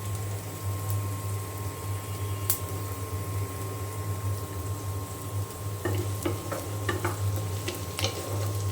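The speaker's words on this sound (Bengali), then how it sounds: "আর পেঁয়াজ আর কাঁচামরিচ দিয়ে দিয়েছি। আমি এখন ভেজে নিচ্ছি" Onions and green chillies frying in a pan for a Bengali home-cooking dish; a steady low sizzle with occasional scrapes and clinks of stirring, close and moderate in level, with no talking.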